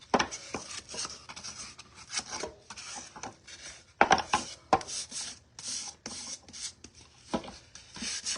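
A wooden cutting board is hand sanded in quiet, rasping back-and-forth strokes, irregular in rhythm with brief pauses and a couple of firmer scrapes, with no voices.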